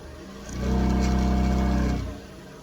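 A steady mechanical hum of a lathe spinning a mounted workpiece at about 1500 rpm swells up, holds for about a second and a half of smooth spinning drone, then winds back down.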